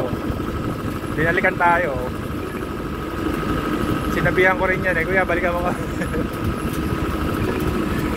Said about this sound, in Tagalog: Ayun yung motor